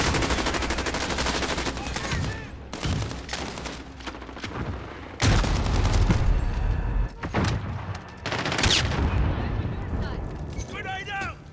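Gunfire in the Modern Warfare video game comes as dense bursts of automatic shots and sharp single cracks, loud and close, with short pauses between volleys and game voices calling out over the action.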